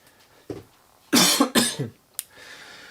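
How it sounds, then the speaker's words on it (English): A person coughs twice in close, loud bursts, with a fainter throat sound shortly after, then quiet room tone. "I need to cough"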